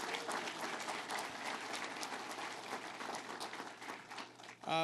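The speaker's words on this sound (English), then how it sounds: "Let's give Laura Curran a big round of applause" Audience applause fills a New York political campaign launch event on tax fairness: dense, steady clapping from a crowd that carries on throughout and then cuts off abruptly.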